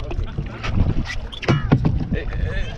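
Makeshift paddles splash and stroke the water beside an old aluminium sailboat, a few irregular dips close by, with wind rushing over the microphone and people talking and laughing throughout.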